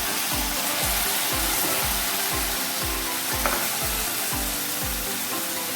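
Loud, steady sizzling of tomatoes frying in a hot pan while making anda ghotala, with a regular low thumping beat running underneath throughout.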